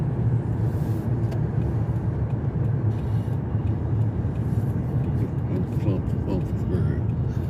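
A car driving on a road near Lawrenceburg, Tennessee, giving a steady low engine and road rumble heard from inside the cabin, with people talking over it.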